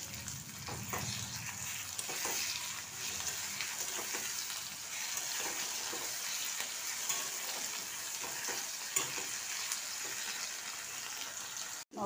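A whole tomato sizzles in hot oil in a pan for prawn curry, with a steady bright frying hiss and occasional soft stirring clatter, close and fairly quiet.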